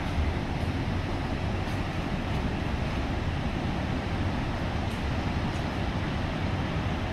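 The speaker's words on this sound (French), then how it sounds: "Et la puissance du fleuve, beaucoup plus douce que les autres cascades." A large waterfall cascade on the Phapeng river roars steadily and evenly, a broad continuous rush of falling water with no voices over it.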